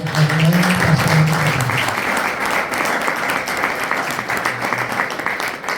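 A church congregation breaks into loud, sustained applause at a New Year gathering. The dense clapping fills the whole stretch while a voice is briefly heard near the start.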